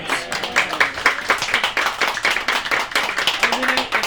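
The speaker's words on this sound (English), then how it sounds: "Round of applause." A small film-festival audience in New York claps after a filmmakers' Q&A, a close, fairly sparse patter of individual hands with some voices mixed in.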